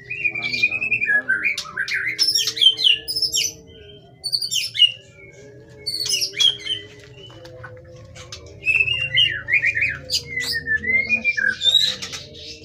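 Murai batu (white-rumped shama) birds sing in bursts of bright, varied chirps and whistles over about twelve seconds, with short pauses between phrases and a low steady hum underneath.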